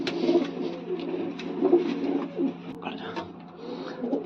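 Soft, low pigeon cooing repeats in gentle bursts close by, with quiet background murmurs.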